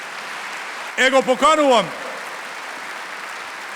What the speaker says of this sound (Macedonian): Ова заслужува аплауз, нели?